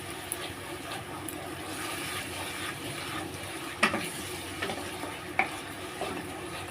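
Masala for prawn malai curry being stirred and fried in a pan with water added. A continuous sizzle runs throughout, with soft scraping strokes and a few sharper clinks of the spoon against the pan.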